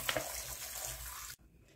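Running tap water splashes steadily into a sink while small potatoes are washed under it, a close, continuous rush that stops abruptly near the end, leaving quiet room tone.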